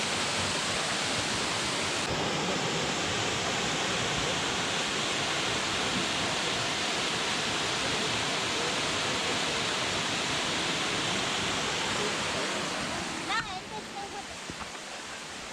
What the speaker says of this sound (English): Spouting Rock is a waterfall.